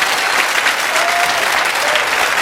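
Studio audience applauding guests onto a live Irish talk show, a dense, steady wash of clapping that stays loud and close for the whole stretch.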